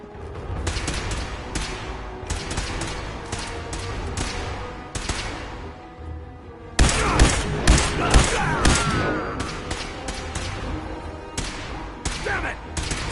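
Gunfire in the video game Fallout 4, bursts of loud shots and thudding impacts in several clusters with a brief lull before a heavier barrage, with a voice shouting over it.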